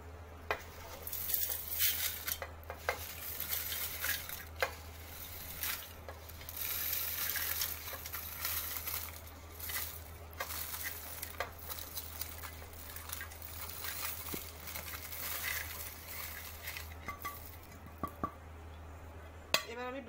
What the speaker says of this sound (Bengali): এভাবে করে আমি ব্লেন্ডারের ভিতরে নিয়ে নেব।